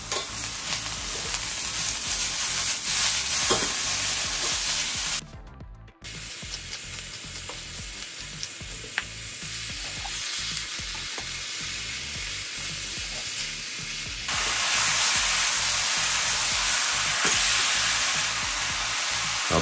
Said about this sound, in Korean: 양파 먼저 볶아줄게요